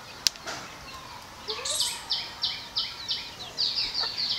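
A small group of pet quails kept at home flutter and shuffle, with a sharp knock early on followed by a series of quick, regular flapping bursts close by.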